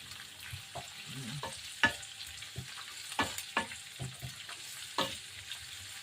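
Chopped onions frying in a pan for a squid dish, a low sizzle with scattered knocks and scrapes of stirring, fairly faint and close, with no talking.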